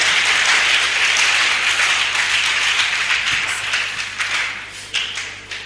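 An audience at a televised program breaks into loud, sustained clapping that fills the room, with scattered individual claps standing out as the applause gradually thins toward the end.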